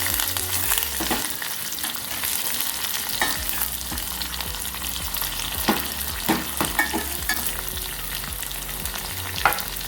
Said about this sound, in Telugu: 2 ఎండుమిరపకాయలు, ఒక మీడియం సైజ్డ్ ఉల్లిపాయ ముక్కలు, కొద్దిగా కరివేపాకు వేసుకొని బాగా మిక్స్ చేసుకున్నాను